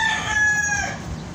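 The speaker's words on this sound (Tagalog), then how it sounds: "Dyan tayo namimili ng manok." A chicken at a market crows or calls once, a drawn-out tonal cry that fades after about a second, over steady background noise.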